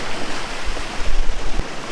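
River water rushes with heavy pressure past a broken lock gate and large rocks, a loud, continuous roar of churning flow close by.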